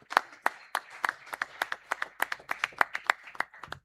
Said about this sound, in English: and we please have the round of applause again